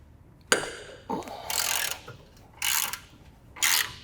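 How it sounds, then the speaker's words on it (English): Ratchet with a deep well socket working control arm bolts on an MK5/MK6 Volkswagen front suspension, several close bursts of rapid clicking ratchet pawl strokes separated by short pauses. "obviously you can see you're able to do it with a good sized ratchet"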